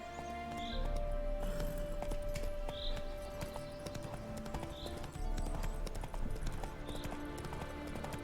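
Roach, a horse in the game The Witcher 3: Hearts of Stone, gallops with steady rhythmic clip-clop hoofbeats over a constant game backdrop. The hoofbeats continue loud and close for the whole stretch.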